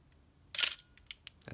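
Nikon FA camera shutter firing at 1/4000 second, one short sharp mechanical click-snap followed by a few faint small ticks, close and quiet with no other sound.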